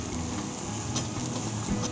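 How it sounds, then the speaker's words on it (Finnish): Onions tossed into mushrooms already browning in a hot frying pan for jerky fried rice give a steady, dense sizzle that runs evenly throughout, close and fairly loud, with no talking. "Nyt pannaan sipulit joukkoon, kun sienet on vähän aikaa paistunut."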